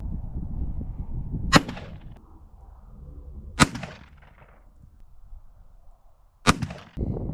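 Three loud, sharp gunshots from a firearm fitted with a dot sight, spaced a couple of seconds apart outdoors, each with a short fading echo over low rumbling background noise.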